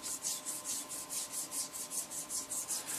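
Light sanding across the surface of a scratch-built Brakiri cruiser model, a steady rhythmic rasp of back-and-forth strokes, about a dozen even passes in three seconds, close and moderately quiet.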